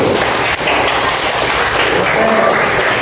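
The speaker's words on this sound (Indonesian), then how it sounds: "Ada tepuk tangannya untuk kelompok 3 yang semangat dulu." A primary school class applauds a student group, loud continuous clapping that fills the room steadily from start to finish with little variation.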